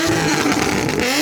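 A Nissan 350Z rolls in leaving a car meet, a steady mid-pitched engine drone held throughout, rising slightly in pitch at the end as it draws near.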